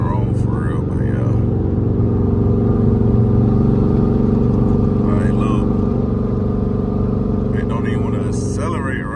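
Heavy idling and revving rumble of a Dodge SRT8 with a 392 engine, running rough, steady and loud throughout with someone talking over it.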